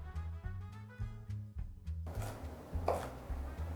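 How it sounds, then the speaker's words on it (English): A knife chops pecan halves on a board for a cinnamon roll topping, with steady, evenly spaced close strikes about twice a second that continue into a busier, noisier stretch. "Here I am just chopping some pecan halves to go on top of our buns."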